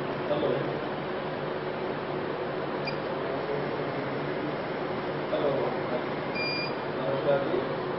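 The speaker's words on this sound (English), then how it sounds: "The beep sound tells us that the indication that aspiration has been completed." A short, high electronic beep from a semi-automated biochemistry analyzer signals aspiration complete, over steady machine hum and background chatter.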